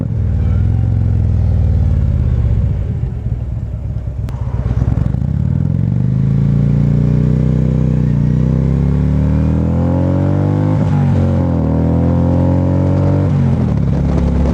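A 2014 Harley-Davidson Street Glide engine rumbles loudly while riding, its pitch rising and falling through several downshifts, with a steady heavy exhaust drone throughout.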